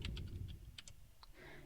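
Soft, quick keystrokes on a computer keyboard while typing into a spreadsheet formula bar, a short irregular burst of close, quiet clicks with no talking.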